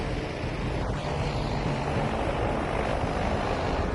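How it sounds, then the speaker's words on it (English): Steady, loud roar of a plane flying close by in Battlefield V, a broad continuous rumble with no talk over it. "Now there's a plane to my left."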